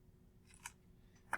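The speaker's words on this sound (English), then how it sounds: "So that's what I'm doing now, is cutting the excess off." Scissors snip excess tape off an evidence card in a quiet room, two faint, close, crisp cuts separated by silence.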